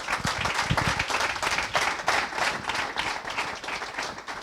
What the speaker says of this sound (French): Franchement, on peut les applaudir